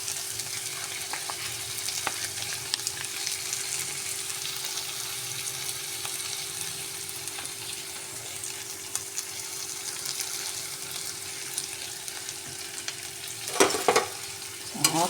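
Ginger garlic paste frying in a pan crackles and sizzles steadily throughout, with a soft spatula-stirring texture over a faint hum and a brief burst of stronger scraping near the end.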